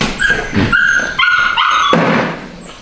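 A pretty young puppy named Oakley gives a run of high yips, short barks and thin whimpers, loud and close, with no talk over it.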